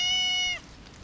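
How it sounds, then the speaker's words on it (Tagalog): A cat belonging to the neighbors meows once, a clear, drawn-out tonal call lasting about half a second, close and fairly loud, then quiet room background. "hindi namin pusa to. Pusa to ng kapitbahay."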